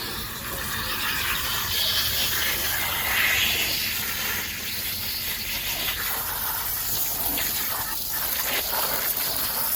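Steady gushing of running water rinsing a Shark vacuum floor head, splashing and hissing close by, continuous throughout with slight shifts in flow.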